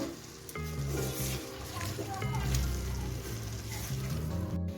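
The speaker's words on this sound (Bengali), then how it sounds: "এখন পনিরটাকে আমি মশলার সঙ্গে ভালো করে 2 মিনিটের মতো কষিয়ে নেব।" Mashed paneer sautéing with spices in a pan over low to medium gas, a steady close sizzle with stirring scrapes throughout, under a background of tonal music.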